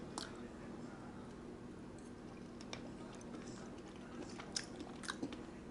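Faint, close biting and chewing of a homegrown tomato in a chicken, mozzarella and tomato sauce dinner, with soft wet squishes and a few small clicks across several seconds.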